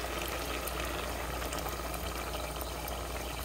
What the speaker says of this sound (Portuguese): Então eu vou colocar mais um pouco de água até cobrir o arroz todinho.